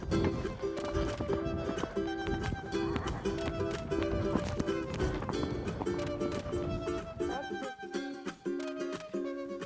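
Pony whinnying over a busy background with hoofbeats clip-clopping, fairly loud and continuous, with a musical tone running throughout.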